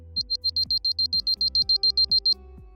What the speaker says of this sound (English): The lens mount should beep twice if the lens is properly connected.